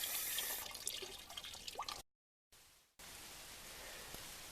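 Water running into a sink while a paint brush is rinsed, a steady close hiss of flowing water with spattering drips, briefly cutting out to silence before the flow resumes.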